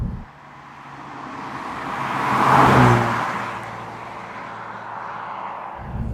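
A Ford Focus ST MK3.5 with a resonator delete drives past, its engine and exhaust swelling to a loud, close whooshing peak before easing back into a steady drone.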